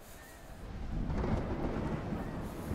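Rain and thunder from a storm rumble in the video game Smalland, a steady rushing downpour building slightly louder with a low rolling roar and no talk.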